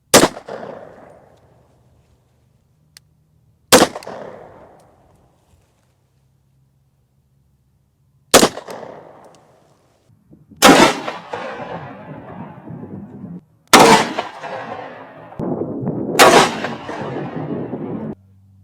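Gunshots fired at a competitor's ballistic helmet during a helmet test: six sharp, loud reports at irregular intervals, each followed by a short ringing decay. The later shots crowd closer together, with a rough scraping tail after them.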